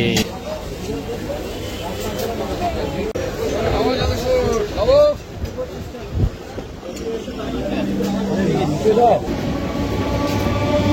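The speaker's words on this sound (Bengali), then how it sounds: "ট্রেন চলে এসছে।" A train pulls into a station with a loud, steady rumble and rattle that carries through, joined by occasional squealing tones. People's voices and crowd murmur sound over the train noise.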